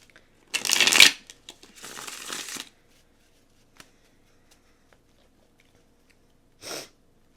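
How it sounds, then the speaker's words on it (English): Tarot cards riffled in a quick shuffle, a sharp burst of flicking followed by a softer stretch of card handling, then a few small taps and one last brief riffle in an otherwise quiet room. "I'm just going to do a little shuffle."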